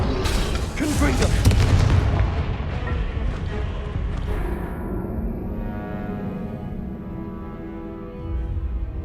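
Blasting-spell explosion in a fantasy video game, a loud booming burst with a rumbling decay that fades into a lingering resonant tail, followed by softer ambient game sound.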